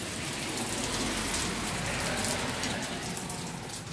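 Heavy downpour of rain during a hurricane, a dense, steady roar of water pounding outdoor surfaces, loud and unbroken throughout with no voices.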